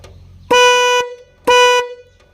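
Two short, loud honks from the snail-type horn of a Kubota L1801 tractor, close by, separated by a brief pause.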